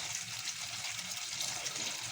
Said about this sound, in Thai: อันนี้ยังยังไม่ได้ล้าง แค่ปล่อยน้ำไหลผ่านไปก่อน